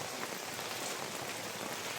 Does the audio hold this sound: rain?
yes